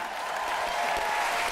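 Studio audience applause on a Vietnamese TV impersonation show, a short burst of dense, steady clapping from a large crowd throughout.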